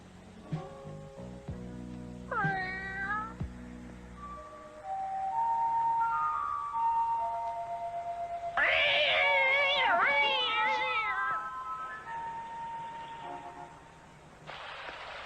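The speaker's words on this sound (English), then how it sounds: "You're just a cat." A cat meows several times, some calls drawn out and wailing, against a noisy television soundtrack with background music.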